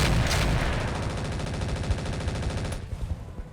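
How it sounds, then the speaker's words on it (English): Rapid machine-gun fire in a real-time strategy video game, a dense, steady rattle of shots that runs loud and unbroken for nearly three seconds before cutting off into quieter game ambience. "Machine guns!"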